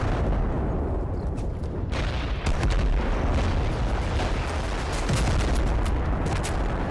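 Artillery or RPG fire in the war game Total Conflict Resistance: a dense, continuous roar of blasts and booms with sharp bursts layered on top, loud and sustained throughout with no voices.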